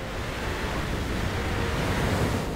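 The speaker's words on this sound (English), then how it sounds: "That involves getting past these crashing waves." Crashing ocean waves from the video game Cold Fear roar as a dense, loud, continuous wash of surf and wind without pause.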